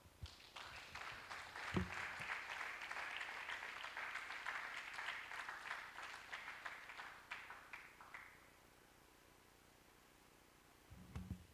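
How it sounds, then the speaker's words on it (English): Audience applause following a keynote lecture at an academic conference, a broad wash of clapping that holds steady for about eight seconds before fading into room quiet. "Can we make that clap bigger for Professor Sambo?"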